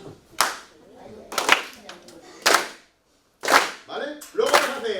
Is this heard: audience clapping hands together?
yes